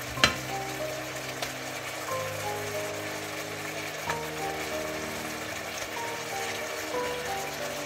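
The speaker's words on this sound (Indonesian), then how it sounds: "Sekarang kita masukin telurnya." Eggs go into a hot pan for a black pepper egg dish, giving a soft, continuous sizzle and frying hiss with a small clatter at the start and faint stirring scrapes throughout.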